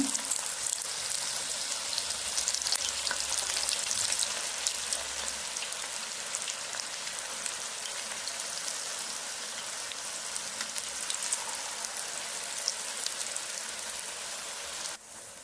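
Cauliflower pakoda frying in hot oil over a medium flame, with a dense continuous crackle and sizzle that holds steady and close for the whole stretch, fading slightly at the end.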